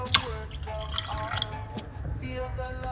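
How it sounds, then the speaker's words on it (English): Water trickling and dripping into a cup, with small splashes and a rising, filling tone, close by and fairly quiet. "Top it up with some water to about right there."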